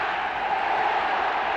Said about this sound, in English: Just listen to this crowd now getting behind Villa